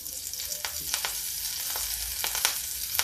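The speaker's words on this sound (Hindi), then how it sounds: "इसलिए अब हम डालेंगे मेथी का तड़का" Fenugreek leaves sizzle loudly in hot oil, a steady hiss broken by sharp crackling pops, with no voices.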